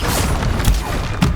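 Confringo explosive spells in Hogwarts Legacy, two quick booming impacts about half a second apart, close and loud over dense battle noise.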